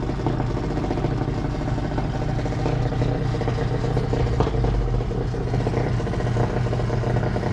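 A 2020 Dodge Challenger Super Stock idles at a drag strip, a steady, loud, low engine rumble with a faint clatter running unbroken throughout and no voices.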